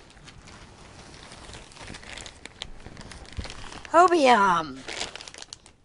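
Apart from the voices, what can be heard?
handling a crinkling cut-open yarn order bag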